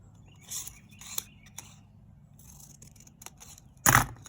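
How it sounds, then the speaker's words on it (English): Several crisp snips of scissors cutting paper, spaced irregularly, ending with one louder, sharper cut. "Bring my scissors around. Cut up."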